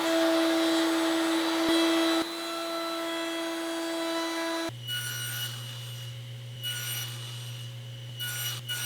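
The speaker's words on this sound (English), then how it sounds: "round over these loose tenons with an 1/8 inch radius rounder bit" A router fitted with a 1/8 inch round-over bit shapes loose tenon stock, a steady high motor whine that changes pitch partway through as the bit bites into the wood, loud and continuous with no talk.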